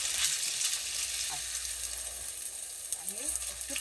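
Chicken chapli kebab fries in a pan with a steady, bright sizzle that fills the scene, close and moderately loud, with a few light scraping touches from a spoon and no talking.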